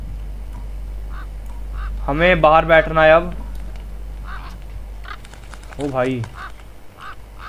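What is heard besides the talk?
pigeons and crows cawing in a horror video game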